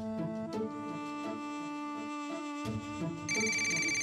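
A phone ringtone in a Marathi TV serial scene, a repeating tonal electronic melody sounding steadily at close range and getting brighter and louder toward the end, with no talking over it.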